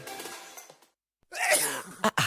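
Loud burst of coughing, a sharp hacking explosion followed by two short coughs, alone with no talk, at the start of a cough syrup radio advert.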